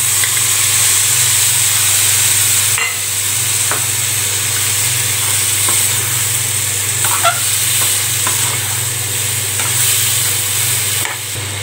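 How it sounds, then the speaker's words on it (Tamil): Mutton sizzles loudly in a pan with fried onions, a continuous hiss of frying punctuated by scraping and clinking as it is stirred, close and alone. "இப்போ நம்ம வேக வச்சுருக்கிற கறியை வந்து மட்டனை வந்து உள்ளே சேர்த்துக்கலாம்."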